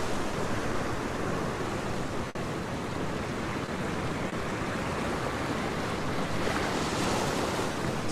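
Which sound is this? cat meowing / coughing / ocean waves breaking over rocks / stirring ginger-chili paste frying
ocean waves breaking over rocks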